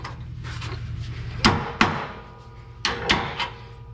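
An old bolt is hammered through a rear leaf spring bushing on an International bus, with about five sharp metallic blows in uneven pairs over a low background hum, close and loud.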